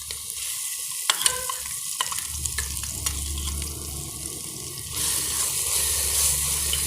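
Onions and ginger garlic paste sautéing in a pan for chickpea gravy, a continuous sizzle punctuated by several spatula scrapes and clicks, swelling louder near the end.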